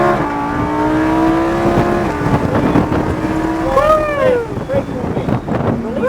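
A supercar engine pulls hard on a race track, its rising harmonic tone climbing as the throttle opens, loud and steady beneath wind rush while people talk over it.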